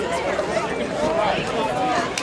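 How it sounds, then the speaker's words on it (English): Crowd at a Brookline postgame celebration on the field after a New England final, a steady dense murmur of many voices throughout, with talk mixed in. "Here's the crowd."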